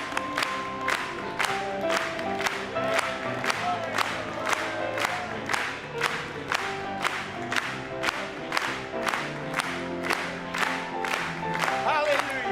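A church congregation claps in a steady, even beat, each sharp clap ringing out over sustained singing and music, with some cheering voices mixed in.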